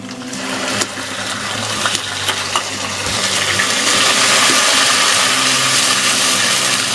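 Tomato paste cooking in a pan over garlic and ginger paste, a steady loud sizzle and hiss that builds gradually and stays continuous throughout, with a few faint clinks near the start.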